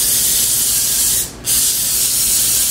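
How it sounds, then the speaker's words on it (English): Butter-flavored vegetable cooking spray hissing from an aerosol can onto a baking surface, two loud, close bursts of spray separated by a brief pause, with no talk. "And I'm going to spray these really well with some vegetable spray."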